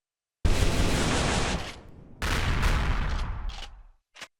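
A turret gun in Empyrion Galactic Survival fires a loud, dense burst of about a second, then a second sustained burst that tapers off, followed by a short faint blip.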